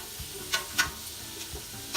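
Onions cooking in a pan and stirred with a spatula, with a quiet sizzle beneath a few distinct scraping strokes spaced irregularly, close up and with no voices.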